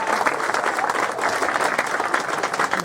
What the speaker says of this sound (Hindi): एक बार जोरदार तालियों से सर का स्वागत करें।